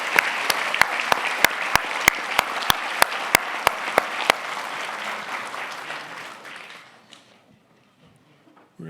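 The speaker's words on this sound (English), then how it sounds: "A round of applause for Clint Smith and Nick Mueller, please." Audience applause for two guest speakers at a talk on WWII historic sites, a full hall of clapping that swells with loud claps, holds steady, then fades to near silence after about seven seconds.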